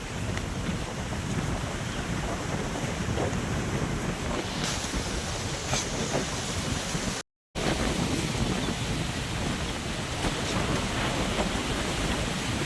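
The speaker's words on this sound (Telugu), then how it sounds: "గాలి అయితే చిన్నగా తగలడం లేదండి, ఓన్ వస్తుంది గాలి" Strong wind sweeps across an open farm field where vegetables such as okra grow, a steady loud roar with heavy gusting buffeting the microphone, continuous apart from one brief dropout midway, with no talking.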